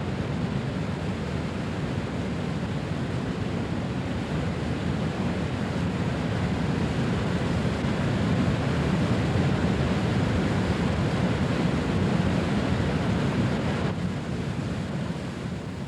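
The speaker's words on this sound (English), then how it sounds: "It bursts into foamy chaos as it falls over rocks close to the surface." Foaming Colorado River rapids in the Grand Canyon, water crashing over boulders near the surface: a steady, loud, close roar of rushing whitewater that never lets up.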